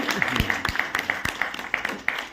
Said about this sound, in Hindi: ताली बजाते जाओ